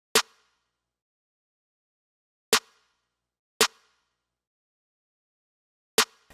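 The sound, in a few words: New York drill beat snare pattern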